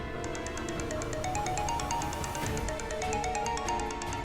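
A phone ringtone plays a repeating electronic melody with bright, regular beeps, steady and moderately loud, with no voices.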